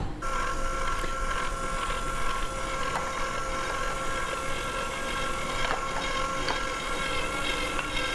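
An electric mixer whirs steadily as it beats vegan, gluten-free chocolate truffle cake batter, a close, continuous motor drone with faint clicks and no talk.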